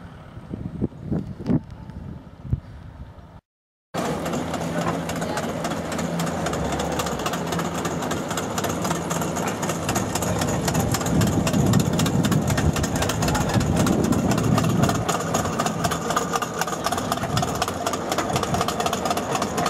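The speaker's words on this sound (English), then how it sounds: "Αυτό είναι το ferry που πάει, το Vivari Channel." Engine of a cable ferry platform crossing the Vivari Channel at Butrint in southwest Albania, a steady droning hum with wind buffeting the microphone, rising slightly midway after a brief silent gap near the start.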